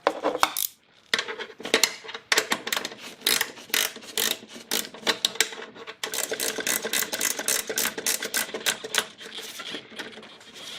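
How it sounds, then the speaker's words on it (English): A ratcheting wrench loosens a 10 mm bolt on a 1999 Acura RL during a fuel filter replacement, giving rapid, close mechanical clicking in steady bursts with a brief pause near the start and another midway. "I'm going to use my ratcheting wrench."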